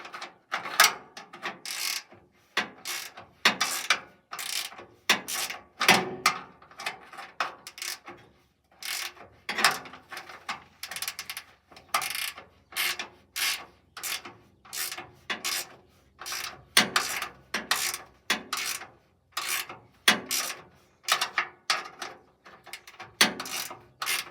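A hand ratchet tightens a fitting on a radiator in a cramped space, clicking in quick, rapid bursts of pawl ticks, repeated stroke after stroke with brief pauses, close and crisp.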